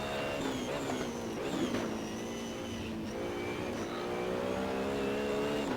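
A race car drifting in the racing game Assetto Corsa during an online race: a steady, droning engine note holds high revs with slight pitch wavers as the car slides, loud and continuous with no talk.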